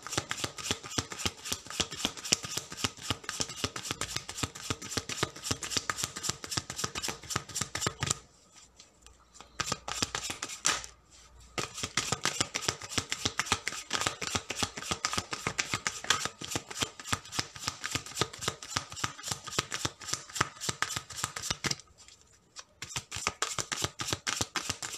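Tarot cards being shuffled by hand in a steady, dense riffling rhythm that runs nearly throughout, broken by two brief pauses, with no talking over it.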